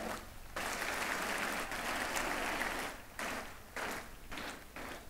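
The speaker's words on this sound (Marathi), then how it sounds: "त्यांच्यासाठी एकदा जोरात टाळ्या वाजवा।" An audience at a school carnival bursts into loud applause for the mothers present, dense clapping that swells, dips briefly, then comes in several shorter waves.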